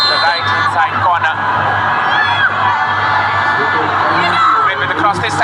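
A football stadium crowd claps, cheers and whoops for the Nepali team in a continuous loud roar, with match commentary running over the noise.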